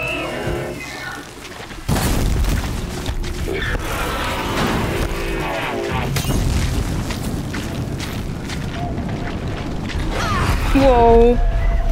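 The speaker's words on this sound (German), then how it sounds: "Da ist der Lohr-Tank explodiert." A deep explosion booms as a tank blows up in Horizon Zero Dawn, amid rumbling, crashing effects, with a voice talking over the noisy action and a whooshing tail near the end.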